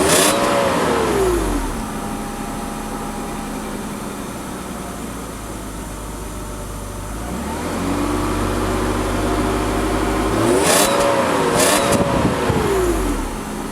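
A modified Mercedes W124 E320 with a MagnaFlow aftermarket catalytic converter and C36 exhaust tips idles loudly and close, then revs up several times, the engine note rising and falling in repeated sweeps, with no talking.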